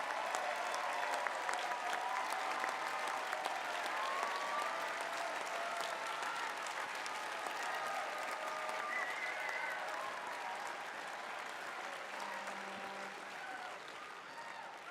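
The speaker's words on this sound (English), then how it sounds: "Let's give them a big round of applause," A large audience applauds steadily at a FIRST robotics regional opening ceremony in an arena, dense sustained clapping filling the hall for the whole stretch with faint crowd noise beneath.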